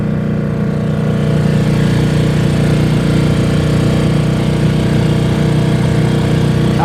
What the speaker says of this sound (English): We were running with the wind with the engine on